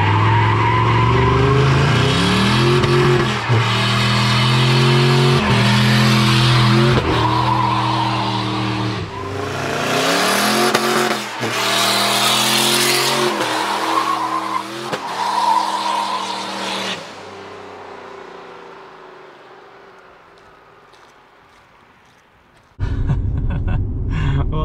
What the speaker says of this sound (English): Did a boosted launch in reverse